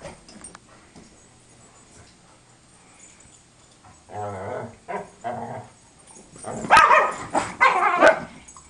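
A beagle puppy on a hunt whimpers, then lets out a few sharp barks up close, with quiet gaps in between and no talking.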